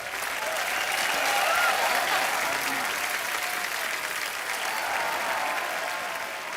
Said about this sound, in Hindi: एक बार जोरदार तालियां मुबारका की पूरी टीम के लिए।